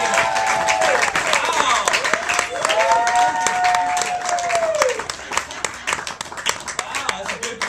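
A comedy club crowd at The Space in Los Angeles gives dense, sustained applause with scattered whoops as a comic is brought on, while a voice talks over the clapping, which thins out toward the end.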